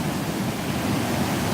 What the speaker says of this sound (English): Are you picking up on the crashing of the waves upon the beach?